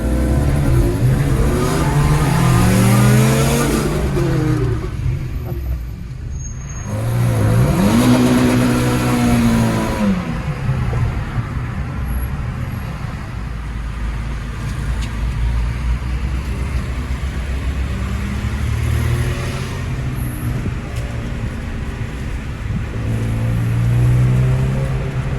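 Several Renault Clio RS hatchbacks, including a yellow Clio 3 RS, roll along in a small convoy, their engines giving a steady mid-pitched drone with a couple of rising revs early on and a continuous road rumble throughout.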